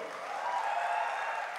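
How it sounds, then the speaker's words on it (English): Audience applause fills the hall at the OnePlus 6 smartphone launch event in India, a steady, dense wash of many hands clapping at moderate volume throughout. "Give yourselves a big round of applause because this is for you."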